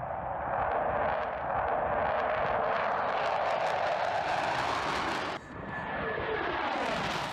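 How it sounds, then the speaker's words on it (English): Fighter jet engines roar as the aircraft flies past during a high-alpha or sneak pass, a loud steady rushing blast that briefly dips and then returns as the jet moves through. "The immense power from the engines and the perturbation of the air by the fighter"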